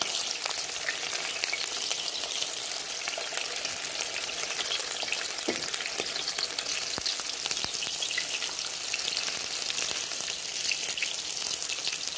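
Longaniza sausages fry in hot oil with a dense, steady sizzle and crackle, and scattered pops stand out close and clear against the constant hiss, with no voices.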